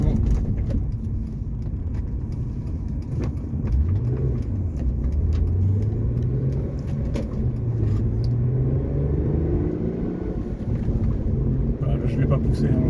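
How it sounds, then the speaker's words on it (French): Hyundai Coupe V6 FX engine heard from inside the car, a low rumble that swells as the revs climb toward about 3000 rpm, then eases off, with someone talking over it. "je suis allé jusqu'à à peu près 3000 tours et le V6 déjà se réveille"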